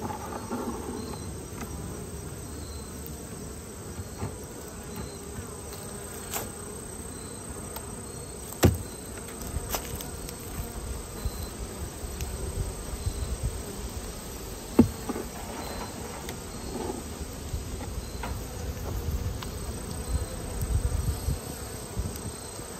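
Honeybees in a swarm trap hive with a weak queen, a soft, calm steady hum of buzzing wings with occasional faint taps and knocks, low in level and close by, no talk.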